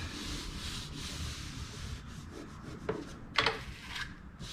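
Bauer 9 amp surface conditioning tool sanding layered paint off a wooden board, a faint continuous abrasive rubbing hiss with a few sharper scraping bursts near the end.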